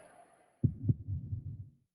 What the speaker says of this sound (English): The energy to perform our best starts with a single heartbeat, then another